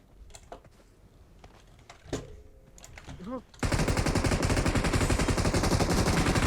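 Gunfire from a PUBG Mobile shooter match. Quiet clicks and short tones come first, then a loud, sustained, rapid burst of automatic fire runs unbroken to the end.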